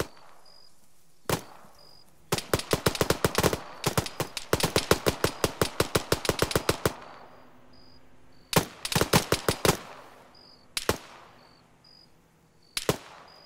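Gunfire erupts in a combat game after an order to fire on a vehicle: loud, close bursts of rapid automatic shots alternating with single sharp shots and short pauses, with faint chirping beeps in between.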